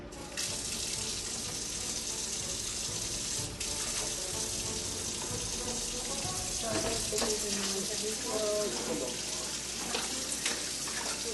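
Water running and draining from a kitchen sink that holds freshly dug clams, a steady continuous rush with faint clinks of shells or dishes later on, no talking.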